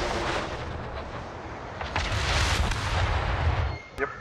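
Naval gunfire in World of Warships near a Nagato battleship: a deep, sustained boom and rumble that swells in the middle and ends with a sharp crack, heard alone without talk.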